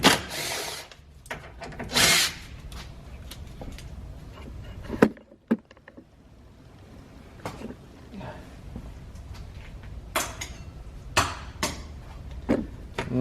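Power drill whirring in short bursts while removing screws from a 2014-2018 Mazda 3 front bumper, close up, with clicks and knocks between runs and someone talking.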